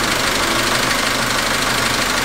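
Ssangyong Korando Sports engine idling after being started, a loud, steady, close mechanical drone with an even knocking texture and no speech.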